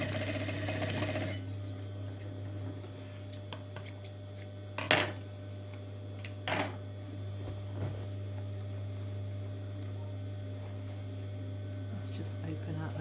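Electric sewing machine running a straight seam through fabric on a handbag, a steady mechanical hum under a constant mains drone, with brief clicks and knocks between stretches of stitching.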